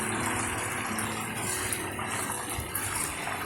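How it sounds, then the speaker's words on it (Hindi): Water hitting hot ghee in a kitchen pan sizzles and splutters steadily, a dense continuous crackling hiss with small pops, fairly quiet and with no talk. "जब घी में पानी होता है या तेल में पानी होता है तो बहुत ज़ोर की आवाज़ आती है"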